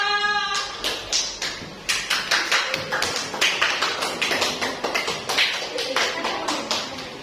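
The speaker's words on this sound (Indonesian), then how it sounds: "Tepuk tangannya untuk kelompok dua." Classroom applause for group two, a steady run of sharp hand claps from many pupils lasting several seconds, with a brief voice at the start.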